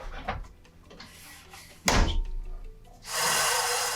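A Keencut Excalibur 5000 cutter slicing through sheet material, heard as a sharp thunk of the cutting head, a scraping pass and then a loud sustained hiss-like rasp near the end, with no talk.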